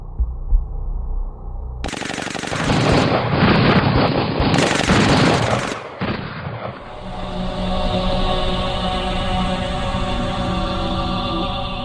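Sustained bursts of automatic machine gun fire, loud and dense for several seconds, then a shift into a steadier droning, layered mix.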